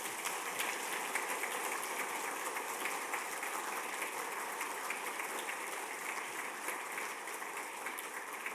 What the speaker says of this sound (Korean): 큰 박수로 환영의 박수 드리겠습니다